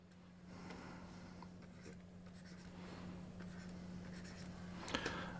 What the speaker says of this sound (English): And let's just draw a line between them. And let's do both our north lines.